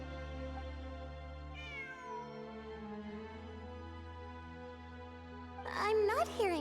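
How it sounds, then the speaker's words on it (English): A cat in the video game Genshin Impact gives a soft meow, then a louder burst of meows near the end, over a steady hum of game background music. "I'm not hearing things. It really is a cat."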